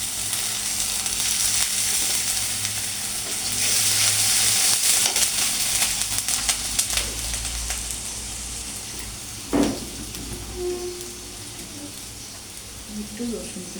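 Ginger garlic paste frying in a pan, a steady broadband sizzle running throughout with a brief sharper burst near the middle, a home kitchen dish of okra cooked with coconut.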